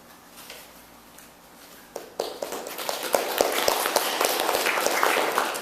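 Audience clapping at a poetry reading in a small literary series venue, starting sparse and soft, then building after a couple of seconds into steady, moderately loud applause with sharp individual claps throughout.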